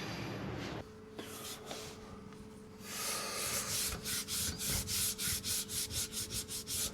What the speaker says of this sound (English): scrubbing the deck.